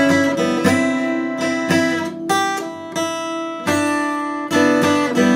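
Bright guitar strums ringing out with quick hammered-on notes on open strings between them, forming a short, rhythmic fill played alone and up close.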